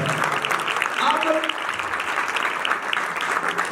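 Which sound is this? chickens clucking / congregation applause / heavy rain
congregation applause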